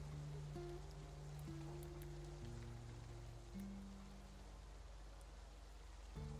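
Steady rain hiss fills a tabletop fantasy roleplaying session, rushing evenly throughout with no breaks, while sustained low musical tones drift underneath.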